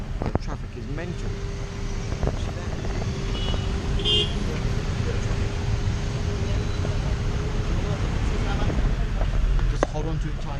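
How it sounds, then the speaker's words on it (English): Busy street traffic in Nepal rumbles steadily, with passing vehicles, a sustained horn tone and scattered toots over a dense background roar. "I'm just going to show you a bit of the traffic"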